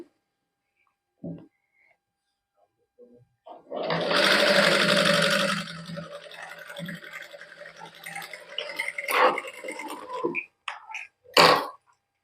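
A sewing machine stitches a designer salwar in a couple of bursts, the first a loud, fast rattling run and the later ones shorter, with quiet clicks and a little speech between them.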